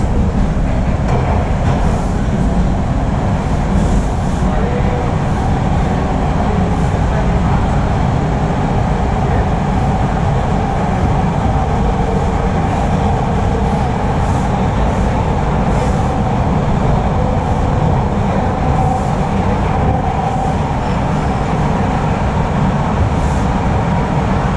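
A Toronto TTC subway train runs between stations with a loud, steady rumble and rail roar that holds for the whole stretch, with faint clicks and rattles riding on top.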